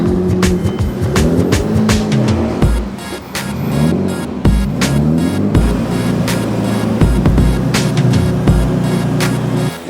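A tuned 800 hp Nissan Skyline R33 GT-R Le Mans Edition engine revs hard and repeatedly on a dyno, rising and falling in pitch with sharp bursts, loud and close, no voices.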